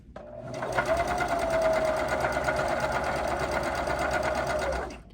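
A sewing machine stitches fabric in one continuous whirring run of rapid needle strokes, starting and stopping cleanly, loud and close with no talking over it.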